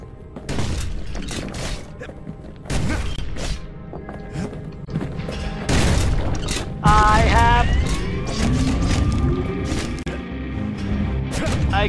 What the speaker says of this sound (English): It's a gun.